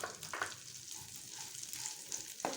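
Vermicelli fries in a pan with a soft, continuous sizzle, and a few light scraping stirs come through over the top of it.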